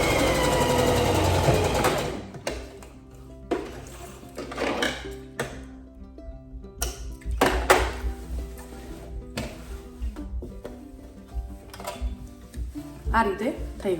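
A domestic sewing machine stitching lace onto a chaniya skirt made from an old kurti, running in several short bursts separated by pauses and handling noises, close and fairly loud.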